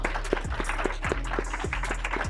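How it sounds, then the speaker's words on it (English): An indoor audience applauds, steady scattered clapping near and far with a low rumble underneath, no voices over it. "So another round of applause for them"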